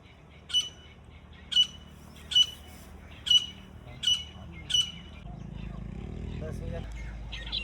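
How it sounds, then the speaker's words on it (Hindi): Black partridge, or black francolin, calling in open village countryside: six sharp repeated calls at a steady rhythm, moderately distant, followed by a rising background rumble near the end. "ये काले तीतर की आवाज़, ये काले तीतर की आवाज़।"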